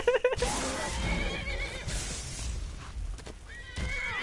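Shadowmere, a horse in the Skyrim video game, whinnies loudly at the start. Rumbling game noise and clattering continue afterward, and a second, fainter whinny comes near the end.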